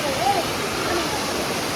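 The Anguthi Sunai waterfall, running with reduced water, gives a constant broadband rush of falling water. A faint voice briefly surfaces over it near the start.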